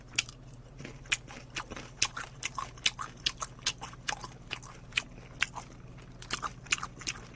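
Close crunchy bites and chewing of black sesame fried chicken from Nene Chicken, a steady run of crisp crackling crunches repeating every fraction of a second with no talking.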